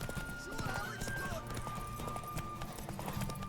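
Horse hooves clip-clop steadily in The Witcher 3 video game, with a neigh or whinny cutting in over a busy game soundscape and voices talking in the background.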